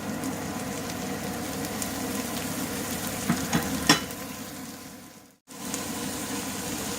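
Chilies, curry leaves and carrots frying in a pan for vegetarian turmeric fried rice, a steady close sizzle with a few sharp crackles and stirring knocks before a brief gap.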